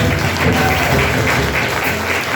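A church congregation claps during a family worship service, a dense, steady burst of applause filling the room, loud and close, with no voices rising above it.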